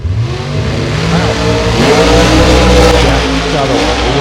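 Ford Mustang and Oldsmobile drag racing cars launch side by side at the Gainesville drag strip, loud sustained engine roar and revving rising through the run with tire noise and a crowd-like wash behind.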